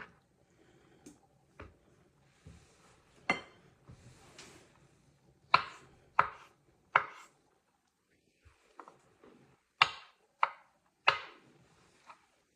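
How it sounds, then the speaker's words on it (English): A knife chops canned peaches on a cutting board in irregular crisp knocks, some clustered quickly together, others spaced out, fairly close and with no speech. "I'm just chopping in nice chunks"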